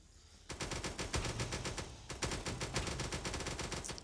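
Rapid automatic gunfire from guns shooting zombies in the Zombie Mayhem video game, dense bursts of shots that start abruptly and keep going almost without a break.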